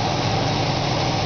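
A truck engine idles after a half can of cleaning fluid is run through its intake manifold, a steady, even rumble with no variation, alone and fairly loud.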